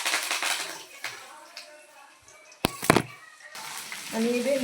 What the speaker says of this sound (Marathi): तेल कडकड तापले त्यामध्ये टाकू थोडीशी जिरे आणि थोडीशी मोहरी